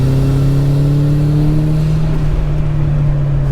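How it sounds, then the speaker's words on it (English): A turbocharged Mazda Miata NB with a Flyin' Miata turbo kit drones steadily under load, its engine note loud and close with a sustained hum that shifts slightly in pitch, no voices over it. "I don't know how well it picks up on camera some of the turbo spool"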